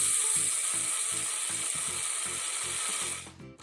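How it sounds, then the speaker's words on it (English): Wheat seeds being ground into flour in a grain mill give a loud, buzzing mechanical whir with a regular pulsing rhythm that fades out near the end. "You have to put your wheat seeds in the mill."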